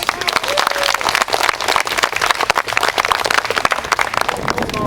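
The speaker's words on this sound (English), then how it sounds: "give her a round of applause for all of her efforts" Steady, dense applause from an audience at an outdoor Arbor Day event in Oneida, New York, many hands clapping continuously and fairly close with a faint voice beneath.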